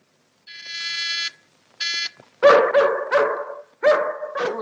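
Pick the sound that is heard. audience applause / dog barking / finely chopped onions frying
dog barking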